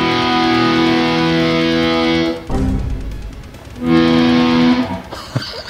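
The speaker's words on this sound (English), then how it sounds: "And then you have a reverb with a shimmer." Guitar played through a shimmer reverb in the Neural DSP Archetype Gojira plugin, loud sustained chords that ring with a bright, airy shimmering tail, broken by a short dip and scratchy strum before the chord swells again.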